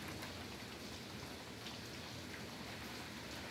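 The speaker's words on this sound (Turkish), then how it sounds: "Ama yıllardır böyle bir yağmur görmedim ben Antalya'da." Heavy rain pours down in Antalya as a dense, steady hiss that holds evenly from start to finish, close and loud, with no voices.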